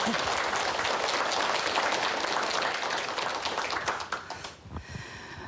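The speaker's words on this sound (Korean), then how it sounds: "큰 박수와 함께 강의 청해 듣겠습니다" Studio audience applause welcoming a televised lecture on menopause, dense steady clapping that fades out in the last second.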